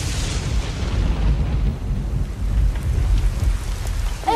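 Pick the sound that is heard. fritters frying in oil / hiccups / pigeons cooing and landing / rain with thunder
rain with thunder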